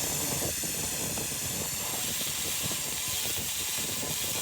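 A laser cleaning machine strips black acrylic enamel paint from a brick, a steady, loud broadband hiss with a dense crackling texture that runs unbroken throughout.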